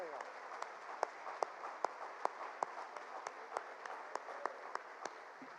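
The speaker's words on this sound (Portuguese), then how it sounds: "Vou aplaudir também." A congregation at a Quadrangular church service applauds, a soft, fairly sparse clapping with distinct sharp claps standing out in an irregular pattern over a quiet background.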